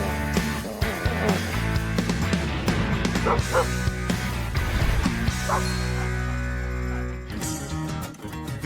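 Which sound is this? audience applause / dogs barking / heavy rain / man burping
dogs barking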